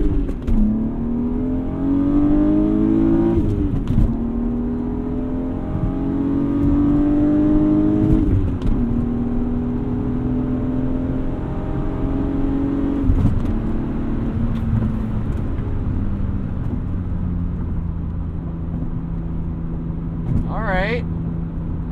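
A car not running at its best accelerates hard at full throttle from a green light, the engine note climbing loudly in repeated sweeps and dropping at each of about three gear changes before easing off.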